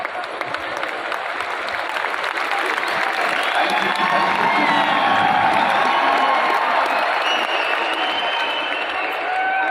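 An audience at a product training event in a stadium claps and cheers steadily. The sustained crowd noise holds throughout, with scattered shouts and voices mixed in.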